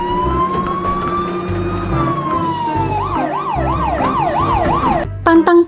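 A toy fire truck blares a loud electronic siren, first a long rising-and-falling wail, then a quicker warbling yelp, ending in a few sharp beeps.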